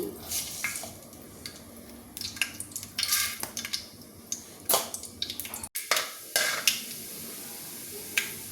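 Tempering seeds, added by the spoonful before okra stir-fry, frying in a pan: crackling pops and sizzling with repeated sharp spoon scrapes and clinks against the metal pan, close and fairly loud.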